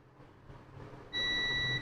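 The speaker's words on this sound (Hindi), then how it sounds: "अभी चार्जर लगा हुआ है तो इसलिए बीप दे रहा है" A multimeter in buzzer continuity mode probes a keypad phone's charging circuit. After about a second of low hum, a steady, shrill, fairly loud beep starts and holds unbroken to the end.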